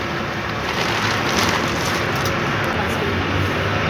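A household electric flour mill (gharghanti) grinding grain, a steady broadband whirring roar that runs unbroken at a constant, fairly loud level throughout.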